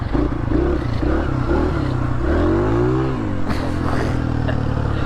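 Dirt bike engine revving loudly and steadily, with pitch sweeps as the throttle rises and falls, plus some clatter, with no talk.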